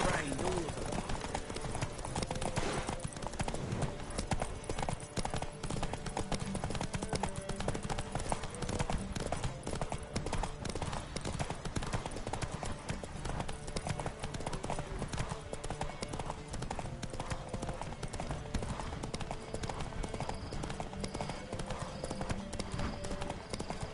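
Rapid, continuous hoofbeats of galloping horses in the video game The Witcher 3: Wild Hunt thunder steadily throughout during a horse race, with voices talking over the rhythmic clatter.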